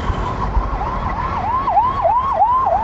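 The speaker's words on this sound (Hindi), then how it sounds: "एक और एम्बुलेंस, एक और एम्बुलेंस" Wailing ambulance siren on a street, rising and falling in a quick repeating yelp cycle, loud and close, with road traffic rumble underneath.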